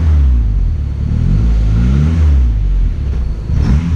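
A 450-plus horsepower GSR's engine revs hard and close, pitch climbing and dropping in repeated pulls as it works through the gears, loud and dominant without voices.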